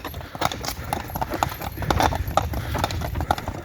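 Hooves clop steadily on the ground as a draft mare plods along pulling a loaded cart, with rattling and creaking, close by and rhythmic.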